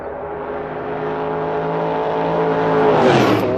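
Racing car engine in a sim racing e-series practice session, holding a steady high-pitched drone that rises gradually in pitch and loudness through a flying lap, then dips sharply near the end as the car brakes.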